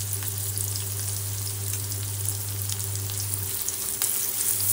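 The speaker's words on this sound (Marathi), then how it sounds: "खोबऱ्याचा कीस टाकलेला आहे मी। याला परतून घेऊ" Grated coconut frying with lightly sautéed onion in a pan gives a steady, close, even sizzle with faint crackles and a low hum underneath, and no voices.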